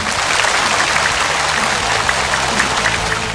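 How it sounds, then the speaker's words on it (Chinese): A studio audience at a televised variety gala applauds as contestants take the stage, a loud, sustained burst of clapping from a large crowd that holds evenly throughout with no talk over it. "让我们用掌声请出我们今天的第一组选手登场"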